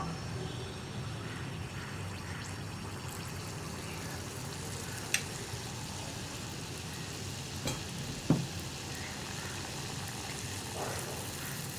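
Rice flour batter fries in hot oil with a quiet, continuous crackling sizzle throughout, plus a couple of faint clinks.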